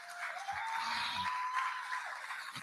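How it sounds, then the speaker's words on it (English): An audience at a gala watch party applauds in a steady, moderate patter of clapping, with a few low voices murmuring underneath. "Give yourself a nice round of applause for that"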